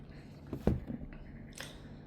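A crisp Sinbok peach is bitten once with a sharp crunch, followed by a faint softer crunch of chewing, close up and otherwise quiet.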